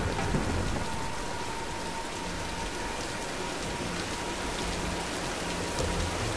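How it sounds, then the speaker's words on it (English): Storm rain in the Tomb Raider 2013 video game, a dense, steady hiss of heavy rainfall with a low rumble of thunder underneath, continuous throughout. "Nah, let's wait out the storm."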